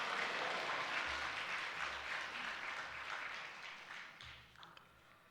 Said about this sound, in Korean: 크게 환영의 박수와 할렐루야로 맞이해 주시기 바랍니다